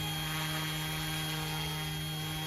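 A Bell OH-58 (Bell 206 style) RC helicopter flies in cold, snowy weather, giving a steady, close, loud electric whine with a constant tonal hum and rotor buzz.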